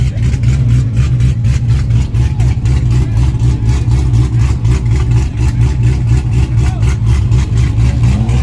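Loud, steady engine roar with rhythmic pulsing revs, close and continuous, like powerful race cars droning without pause, at a track called The Gut.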